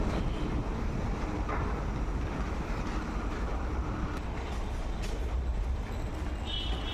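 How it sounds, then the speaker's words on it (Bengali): Constant broadband roar of air conditioning and machinery hangs over an underground metro station in Kolkata, unbroken and fairly loud, with no clear speech. "এটা হলো মেট্রো স্টেশন।"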